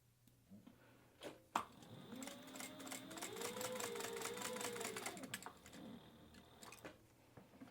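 A sewing machine runs at a steady stitching pace for several seconds while basting a fabric band in place, a close, quiet mechanical whir with a soft clunk as it starts.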